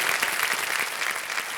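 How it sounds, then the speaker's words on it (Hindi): Studio audience on the KBC game show applauding in a dense, steady wash of clapping, loud and continuous with no speech over it. "बहुत बहुत बधाई हो, तालियां बजती रहें इनके लिए।"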